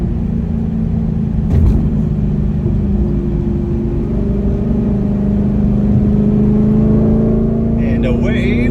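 A car fitted with a Corsa Extreme Plus catback exhaust accelerates up an on-ramp, its deep, loud droning exhaust note climbing steadily in pitch through the gears, with a brief knock early and faint voices near the end.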